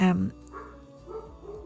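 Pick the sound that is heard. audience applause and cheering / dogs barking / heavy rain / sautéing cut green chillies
dogs barking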